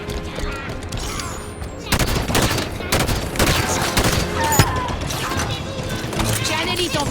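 Bursts of gunfire and rapid automatic fire crackle through a Halo 5: Guardians campaign battle against the Covenant, loud and continuous with heavy impacts and mechanical clatter, while voices are heard amid the firefight.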